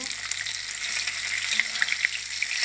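Three pieces of bhola fish fry in a small kadai, a close continuous hiss and sizzle with sharp crackling pops, no voices.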